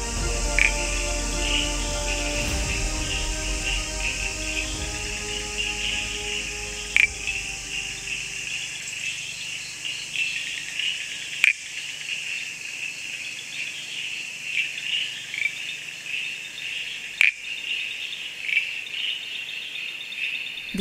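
Crickets and frogs call steadily in a lush green monsoon jungle, a dense high insect drone running throughout with layered lower frog croaks early on and a few sharp distant clicks.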